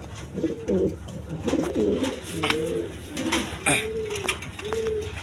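Male pigeon behind a pair of white Denis birds giving a run of low throaty coos, close and fairly soft, with someone talking quietly nearby.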